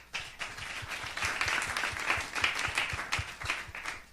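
Audience applause at a school podium event, a dense, steady wash of many hands clapping at moderate loudness, with a few rhythmic thumps underneath, holding evenly throughout.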